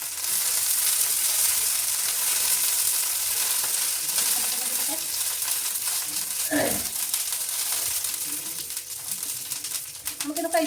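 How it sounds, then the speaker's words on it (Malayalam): Curry leaves crackle and sizzle in hot oil in a home kitchen, a steady loud frying hiss throughout with a few sharper pops and faint clinks near the end. "കുറച്ച് വേപ്പില ഇട്ട് കൊടുക്കാം."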